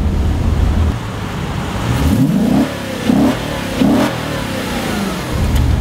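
A Maserati's engine revs several times, loud and close, with short rising bursts over a steady engine rumble and faint road noise.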